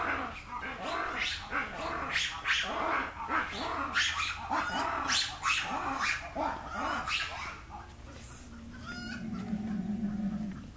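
Black and white ruffed lemurs calling at a zoo in a loud chorus of rhythmic, barking, pulsing cries that last several seconds before easing into lower murmurs, with some human voices mixed in.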